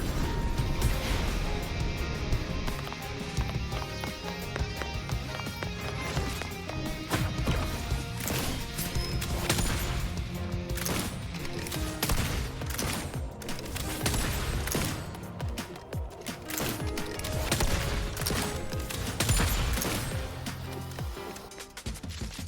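Dense bursts of gunfire and crashing impacts pound through a fast combat sequence in the video game Wuthering Waves, loud and continuous over a layered game soundtrack.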